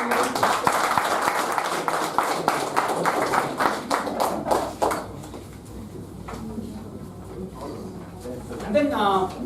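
Applause for the role players on stage at a Toastmasters club awards event, dense clapping for about five seconds that then thins out to scattered claps, with a voice and a chirpy sound toward the end.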